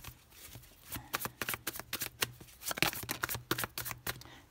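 A deck of tarot cards is shuffled close by in quick, crisp riffling and slapping bursts with short pauses, alone without talk.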